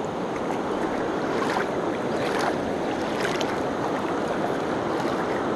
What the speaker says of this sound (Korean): 특히 물소리가 아름다워요